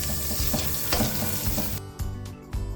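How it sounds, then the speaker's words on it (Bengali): Onions with cinnamon, black pepper, bay leaves and cracked cardamom pods frying in hot oil for a camel meat curry, a steady close sizzle with a few stirring scrapes and bubbling bursts, no voices. "এগুলো এখন তেলে একটু ভেজে নিচ্ছি।"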